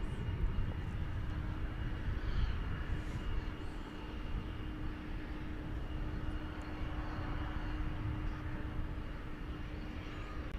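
An airplane taking off at night at DFW Airport gives a constant low engine roar with a steady tonal hum, heard from a distance and unbroken for about ten seconds, with no voices.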